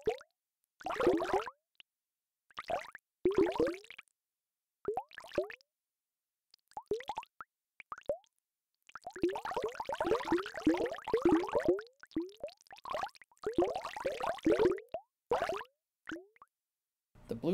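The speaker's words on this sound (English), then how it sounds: "The user interactively moves the duck around the tub, creating waves and the corresponding sound." Synthesized water sounds come from a rubber duck being pushed around a bathtub. Bursts of bubbly plops and splashes arrive in irregular clusters, with short gaps of silence between them and a dense flurry in the middle.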